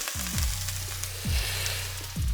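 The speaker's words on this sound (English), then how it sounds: "sizzling chopped red pepper" Chopped red pepper sizzles and crackles steadily in a hot pan, with a low repeating thump about once a second beneath the frying.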